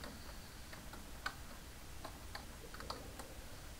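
Sparse, light keystrokes on a computer keyboard typing a search term into a browser, a few soft separate clicks heard close and alone over a quiet hiss.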